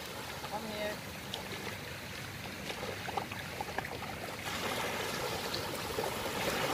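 Sea waves washing steadily onto the sand at The Cove Rotana beach, a continuous rushing wash that swells louder toward the end, with voices talking over it.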